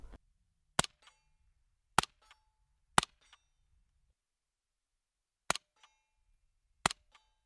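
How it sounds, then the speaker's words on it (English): Suppressed B&T APC9SD, a non-select-fire 9mm, firing 147 grain Corbon subsonic rounds from a KCI magazine: five sharp, separate shots at irregular intervals, each a crisp crack with a faint mechanical clack after it, against near silence. "we'll shoot one magazine of 147 grain Corbon subsonic out of the KCI magazine"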